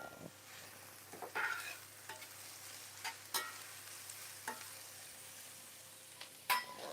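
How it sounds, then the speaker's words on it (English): Food in a cast iron pan is stirred with a utensil, producing a soft sizzle and intermittent scraping strokes against the pan at close range. "I'm just going to stir."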